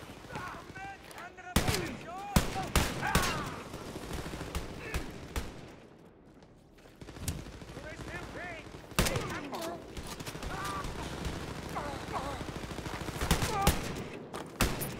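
Video-game gunfire crackles in rapid bursts and volleys, with sharp shots and automatic fire coming and going over a busy soundscape and a short lull in the middle.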